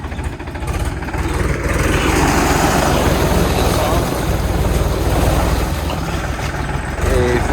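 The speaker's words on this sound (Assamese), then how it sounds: "এইফালে হাল বাই আছে," A tractor works a village field, its engine droning steadily and loudly throughout with no break.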